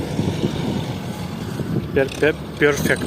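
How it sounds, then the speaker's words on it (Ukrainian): An MTZ tractor pulls away during a barley harvest, its low engine rumble steady then easing, and someone speaks briefly toward the end. "Поїхала МТЗівка."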